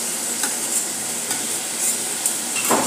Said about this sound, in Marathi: आता यामध्ये घालणार आहोत 2 मोठे टोमॅटो मी चॉप करून घेतलेले आहेत, ते घालत आहोत।